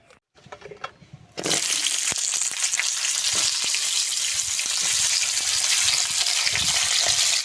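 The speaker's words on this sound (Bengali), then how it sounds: "এই যে ছিমটা প্রথমে ভেজে নেব। কড়াইতে দিয়ে দেবো সরষের তেল" Flat beans hitting hot mustard oil in a wok: after a brief quiet start, a loud, close, continuous sizzle bursts up and holds steady with small crackles, no voices.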